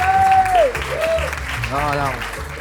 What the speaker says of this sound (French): Wouh, applaudissements.